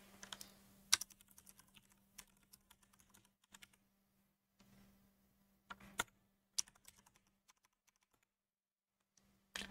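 Sparse, uneven keystrokes tapped on a computer keyboard while entering a command, with clustered clicks, long pauses between them and a faint steady hum underneath.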